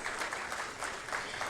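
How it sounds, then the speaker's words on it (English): A conference audience at a pharma industry event claps in a brief, steady round of applause, moderately loud and slightly distant, with no voices over it. "let's make a thunderous round of applause"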